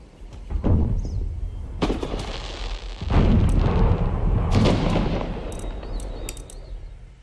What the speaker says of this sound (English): This is the best place for an artillery duel.